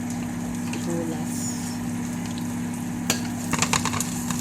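Onions sautéing in a pan for a bitter melon dish give off a steady, close sizzle throughout, with a few sharper scraping stirs near the end.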